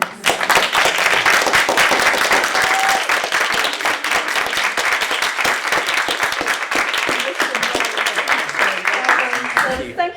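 An audience at a launch event on the Fifth Pan African Congress of 1945 breaks into sustained applause, dense loud clapping filling the room for about ten seconds before it begins to thin out at the end.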